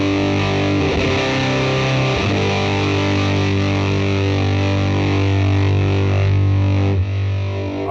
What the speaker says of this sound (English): this one has a big, bold, fuzzy sound